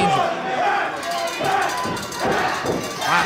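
A wrestling crowd cheers for high flyer Pat Angel at an indoor show, a steady broadband roar that swells in waves, with a commentator talking over it.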